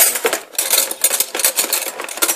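A big spoon clattering among metal cutlery and dishes, with busy, dense, close clinks and rattles.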